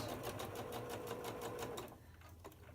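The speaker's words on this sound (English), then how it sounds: "I'm just taking my time, going around." A sewing machine stitching quilt blocks, steady rapid needle chatter running evenly for nearly two seconds, then stopping and leaving quiet room tone with a faint click.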